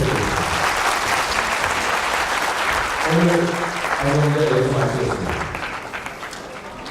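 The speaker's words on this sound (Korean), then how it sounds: "김창기 전 총장님께 다시 한번 감사의 박수 부탁드립니다" Sustained audience applause fills a lecture hall after a talk by a former army chief of staff, steady clapping throughout while a voice speaks over it in the middle, the clapping thinning toward the end.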